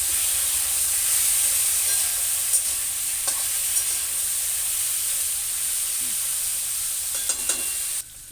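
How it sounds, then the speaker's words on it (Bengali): Taro pieces fry in oil with salt and turmeric, giving a close, continuous sizzle with occasional stirring clicks, loud and even until it drops away abruptly at the end. "খুব সুন্দর করে ভেজে নেব।"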